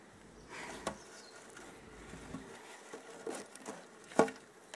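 Honeybees at an opened hive, bringing in pollen, make a faint, steady buzzing close by with scattered small taps and knocks. No one speaks.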